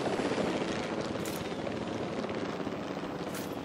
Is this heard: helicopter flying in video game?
yes